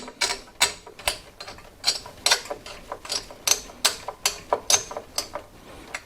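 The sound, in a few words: tightening the CPU cooler mounting screws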